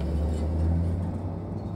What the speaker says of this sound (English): Sorry, there's a truck driving by.